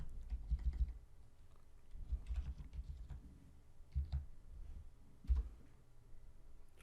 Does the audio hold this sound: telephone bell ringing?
no